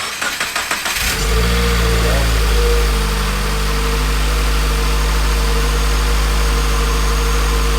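A Subaru WRX running on E85 fuel cranks for about a second with rapid uneven starter chatter, then catches and settles into a loud, steady idle close by, with no talking.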